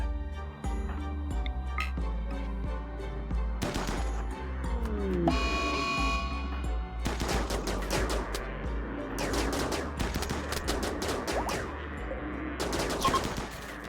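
Gunfire from shooting practice in RimWorld, rapid bursts of sharp shots and rattling volleys over steady background music, growing denser in the second half, with no talking.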